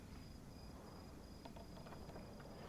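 Crickets chirp in a quiet night scene of the video game Pathfinder: Wrath of the Righteous, a faint, steady insect trill with a few brief chirps over low ambient hiss, no voices.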